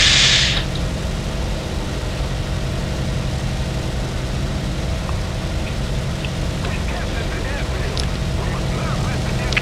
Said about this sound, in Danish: Der kommer også bombefly fra luften af.